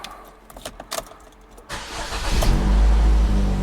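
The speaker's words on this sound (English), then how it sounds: "Now the next step is start the vehicle." A 2015 GMC Terrain engine starting: faint clicks and key rattle, then the starter cranks and the engine catches and settles into a loud, rumbling run close by.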